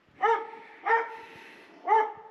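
Three separate barks from a resort dog ring out at a moderate distance, each short and sharp, spaced about a second apart over a quiet background.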